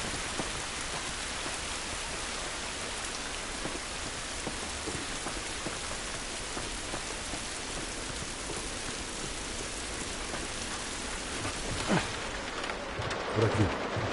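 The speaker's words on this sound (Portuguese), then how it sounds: "Essa chuva não vai nos ajudar." Heavy rain in The Last of Us, a dense continuous hiss of drops on surfaces that stays steady throughout, with a few brief louder splashes or knocks near the end.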